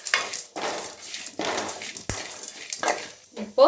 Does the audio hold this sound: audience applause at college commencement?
no